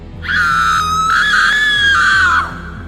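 A woman lets out a loud, sustained high-pitched scream in a dramatized Hindi horror story, one long shriek lasting about two seconds with a quiet rhythmic background beneath it.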